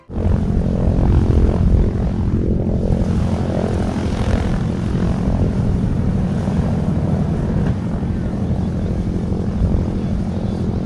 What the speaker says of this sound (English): all four round engines are running on a B-29 named Doc